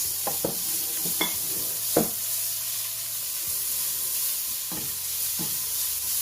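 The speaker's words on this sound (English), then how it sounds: "Our carrot has been grated. Just fry a bit." Grated carrots fry in a pan for fish rolls, a constant sizzling hiss carrying several brief knocks and scrapes from stirring, close by with no voices.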